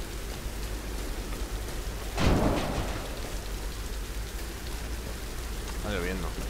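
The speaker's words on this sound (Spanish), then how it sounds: "Está lloviendo." Steady rain hissing across a video game scene in Tomb Raider, with a brief louder burst of wind-driven rain or thunder near the middle and a faint tonal chirp toward the end, continuous and fairly close.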